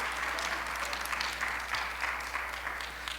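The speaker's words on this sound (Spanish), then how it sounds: "Dale otro aplauso al Señor entonces" A church congregation claps for the Lord in a sustained, even round of applause, moderately distant with no speech on top.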